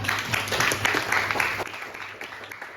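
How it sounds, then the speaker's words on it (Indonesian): A classroom audience applauds a group's presentation during a school lesson, dense clapping throughout that thins toward the end, close and fairly loud. "saya minta sekali lagi tepuk tangan untuk mereka"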